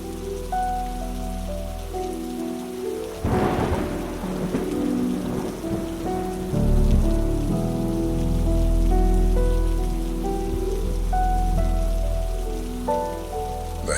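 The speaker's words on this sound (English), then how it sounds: "The heavy rain poured down in a relentless torrent, soaking the earth and creating a symphony of pattering against the ground and the foliage." Heavy rain in a forest pours onto the ground and foliage in a dense, continuous patter, with a low rumble swelling beneath it partway through, loud and close.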